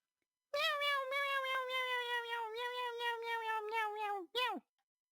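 A cat stuck up in a tree lets out one long, drawn-out, wavering meow, followed quickly by a short, sharp second meow, heard close and clear.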